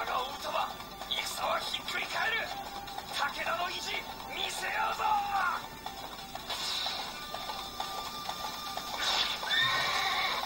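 Horse neighing and whinnying in the Samurai Warriors 4 II video game, several whinnies with clip-clop hooves over game music and effects, a voice talking through it.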